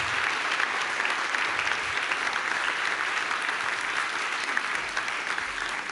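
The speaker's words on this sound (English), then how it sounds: "Please give them another round of applause" Steady, dense applause from a live audience at a press freedom awards ceremony fills the clip, sustained and even throughout with no break.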